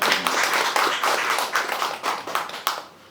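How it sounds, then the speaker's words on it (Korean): A small crowd at a memorial panel discussion in Jeongeup, Korea claps steadily for a few seconds, the applause fading out toward the end. "여러분 박수로 환영해 주시기 바랍니다"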